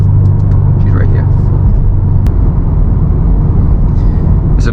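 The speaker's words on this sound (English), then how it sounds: "We're driving a 2018 STI today." Interior of a 2018 Subaru WRX STI Type RA driving on the road: a loud, steady low engine and road rumble fills the cabin throughout, with faint voices and small rattles on top.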